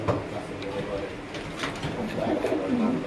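A breeding pair of pigeons coos softly in a loft, the female sitting on eggs, with low repeated cooing murmurs and faint rustling running throughout.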